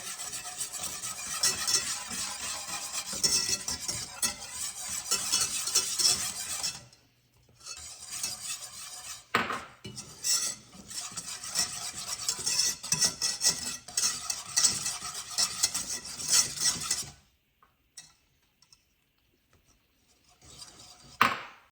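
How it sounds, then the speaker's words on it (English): Flour being stirred into melted butter-substitute for a creamy chicken and wild rice soup, a continuous gritty scraping and rubbing of a utensil in a pot, broken by a couple of short pauses, with no talk. "I'm gonna add our flour in a little bit at a time"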